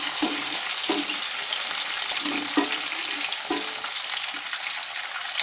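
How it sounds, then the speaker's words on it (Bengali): Tomatoes dropped into a frying pan with a fish head dish: a loud, continuous close sizzle with a few soft stirring knocks, and no one talking. "এখন আমি এর ভিতরে এই টমেটোগুলো দিয়ে দিব।"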